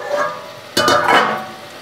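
Spiced masala with goat legs stirred and frying in a pan for paya curry, a soft sizzle that swells into a louder burst of stirring scrapes midway, then settles back to a steady fry.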